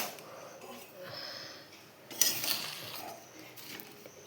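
Food is stirred in oil in a cooking pan over a gas flame, giving light, irregular clinks and scrapes of a utensil against the pan, soft and close.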